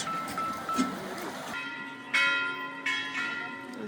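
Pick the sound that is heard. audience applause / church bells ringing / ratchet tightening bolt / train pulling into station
church bells ringing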